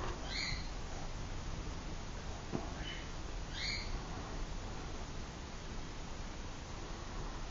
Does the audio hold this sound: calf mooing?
no